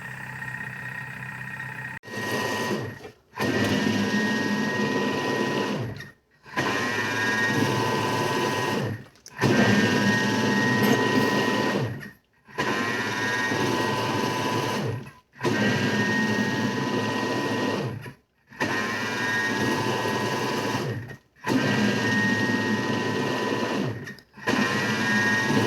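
A Thermomix TM6 runs its bowl-cleaning function, a whirring motor hum with sloshing that cuts off briefly at regular intervals of about three seconds, then restarts, repeating eight or nine times.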